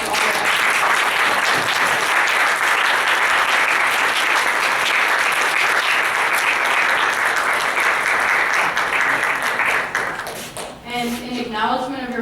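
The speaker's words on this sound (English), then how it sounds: "let's give them one last final round of applause for all their efforts" Sustained, dense applause from an audience at a spring showcase, loud and steady for about ten seconds before fading out as a voice begins speaking.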